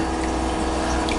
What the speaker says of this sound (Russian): Почему сброс воды, непонятно